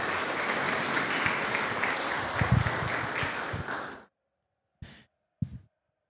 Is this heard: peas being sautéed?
no